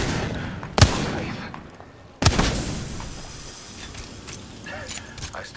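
A shotgun is drawn and handled in a video game: two sharp, loud blasts with metallic mechanical clatter, each followed by a decaying rumble, then softer clicks.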